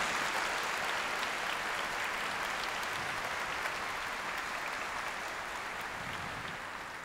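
A church congregation applauding together, a dense, steady wash of clapping heard at a moderate distance that holds evenly for several seconds and fades slightly toward the end, with no voices over it.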